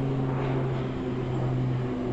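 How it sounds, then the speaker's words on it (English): A big twin-engine airplane, probably military, passes over a farm, a steady low droning hum with a broad rushing wash, moderately loud and unbroken, with no talking. "Big old twin-engine airplane going in,"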